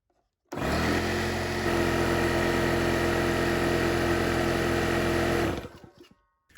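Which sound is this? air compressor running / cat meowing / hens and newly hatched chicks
air compressor running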